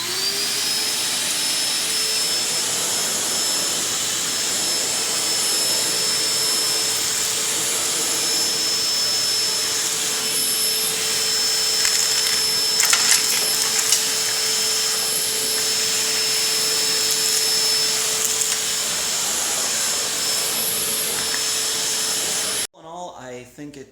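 A Stanley 6HP 8-gallon stainless steel shop vacuum runs steadily, sucking up sawdust with a loud, continuous roaring whine and brief rattles of debris, cutting off abruptly near the end.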